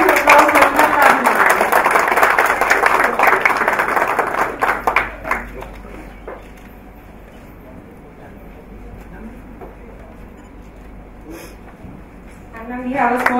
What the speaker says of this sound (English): Can we have a huge round of applause for Reena Paladi?